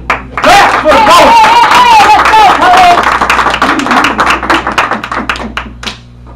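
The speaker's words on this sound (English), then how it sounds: "y'all give it up. Clap for the poet" Crowd at a poetry and spoken word night clapping for a poet, dense applause with cheers and a host's voice over it, thinning out toward the end.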